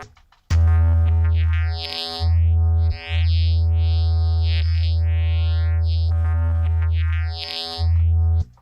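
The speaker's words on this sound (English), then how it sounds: "So we've got some kind of bass going on there" A deep, sustained synth bass drone with sweeping filter movement, playing in long held notes broken by short gaps.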